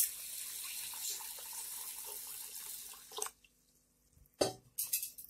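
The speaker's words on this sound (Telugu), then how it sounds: "నీళ్ళు పోసేస్తున్నాను." Water pours steadily from a tap onto soaking urad dal lentils for a sajjalu dosa batter, a continuous splashing flow that stops, followed by a few brief drips and splashes.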